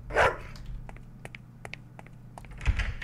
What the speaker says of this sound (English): Nice little doggy.